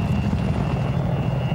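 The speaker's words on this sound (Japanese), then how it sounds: "ちょっと待って、ヘリが来てる、ヘリが。" A helicopter in the video game Battlefield 4 thrums loudly and continuously, a close, steady rotor drone with no talk over it.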